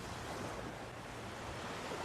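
Ocean waves wash steadily onto a beach on New Providence in the Bahamas, a continuous broad surf roar with some wind noise across the microphone and no voices.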